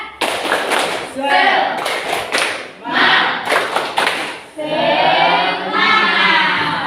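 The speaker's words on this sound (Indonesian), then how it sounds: "kalau ibu bilang tepuk semangat, masih ingat caranya?" Schoolchildren and their teacher performing the tepuk semangat clapping routine: bursts of rhythmic claps and thumps in quick groups, mixed with loud chanted voices and crowd noise in a classroom.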